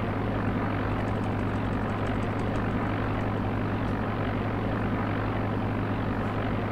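Steady propeller aircraft engine drone in the X-Plane flight simulator as a light plane taxis toward runway 27 at Lansing Municipal before takeoff, a constant low hum with no talking.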